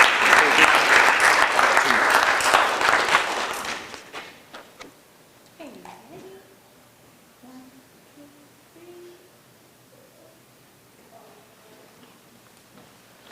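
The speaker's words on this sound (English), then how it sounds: "Let's give her another round of applause." Loud, dense applause from a crowd at a city council meeting for about four seconds, then it fades out and quiet talking follows.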